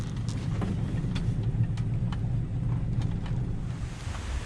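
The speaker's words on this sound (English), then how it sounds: "it's getting windy" Steady wind buffets the microphone outdoors beside a Ford Falcon XW GT with a 351 Windsor V8, a continuous low rumbling roar with scattered gusty thumps, loud and alone without voices.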